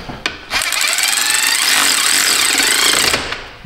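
A power tool tightening a part in a car repair shop lets out one loud, rattling burst of about two and a half seconds, framed by brief quiet and a couple of knocks.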